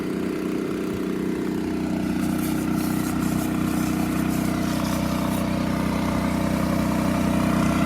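A gas-powered roof pump runs steadily at close range, its small engine holding a constant droning hum with a rougher mechanical rattle throughout, and no one speaking.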